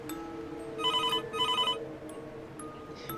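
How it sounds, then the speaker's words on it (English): A loud kitchen telephone rings in two clear bursts of rapid electronic trilling, separated by a short gap, over a low steady room hum with no talking. "the kitchen phone began to ring."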